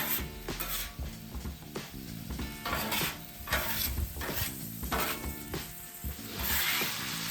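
Stir fry cooking in a pan, with a steady quiet sizzle under repeated scraping and clanking of a metal utensil against the cooking surface, no talk.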